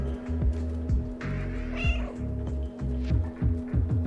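A cat meows several times in Stray, chatty and fairly close, over a steady game soundtrack with repeated low thumps.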